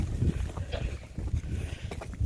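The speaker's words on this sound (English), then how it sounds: "Very cold and windy today" Gusty wind buffeting a microphone outdoors on a cold sheep farm paddock, irregular low rumbling bursts close to the mic with no voices.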